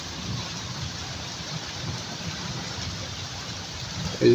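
Heavy downpour on a rainy day, a dense, steady hiss of rain falling close by, continuous and even throughout, with no voices.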